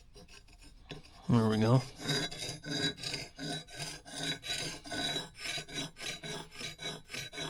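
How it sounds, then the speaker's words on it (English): Soapstone marker rasped against a file, a close series of steady rhythmic scraping strokes, with a brief spoken remark near the start. "We've officially graduated to the land of soapstone, which apparently I need to sharpen."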